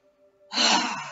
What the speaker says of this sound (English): So take a deep breath in